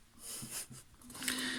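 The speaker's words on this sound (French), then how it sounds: "le bruit de fond, c'est mon chien qui ronfle" An old dog snores softly in the background, a low wheezing, snorting breath rising and falling across two quiet cycles.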